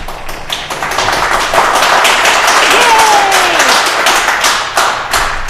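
A studio audience claps steadily for several seconds, a dense, close burst of applause that swells, holds, then tapers off, with no one talking over it.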